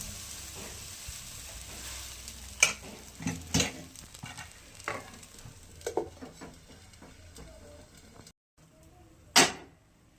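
Batter of stale rice sizzles in oil in a wok, a continuous frying hiss broken by sharp utensil clinks and scrapes, with a brief near-silent pause near the end.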